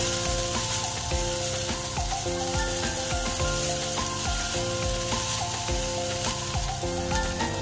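Shredded cabbage fries in a hot pan for egg idiyappam kottu, a steady loud sizzle with occasional scraping and stirring clatter, close up and without talk.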